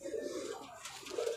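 A Faqer Gull pigeon coos softly twice, low throaty calls at the start and end of a short stretch, faint and close amid quiet background noise.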